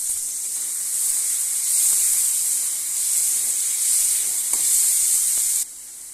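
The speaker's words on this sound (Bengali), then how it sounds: "দেখো পেঁয়াজটা ভাজা হয়ে গেছে" Onions sizzle steadily in a hot pan as they fry, a continuous bright hiss with faint stirring ticks that drops slightly in level near the end.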